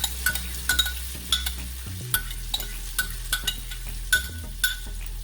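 Vegetable omelette batter is poured into a hot oiled pan and sizzles steadily, while a spatula taps and scrapes the pan at a regular pace, close and fairly loud.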